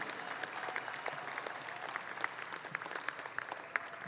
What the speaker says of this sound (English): a big round of applause for your Skillathon winners for the State Fair